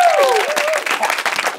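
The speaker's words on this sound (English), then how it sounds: "Please give them a round of applause" Live audience applauding and cheering for improv performers at a comedy show, a loud dense burst of clapping that fills the short moment, with a whistle-like tone sliding down at the start.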